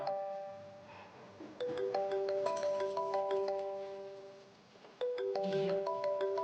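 An incoming call on a phone plays a melodic electronic ringtone, a repeating pattern of bright chiming notes that restarts partway through, steady and moderately close with faint room noise underneath.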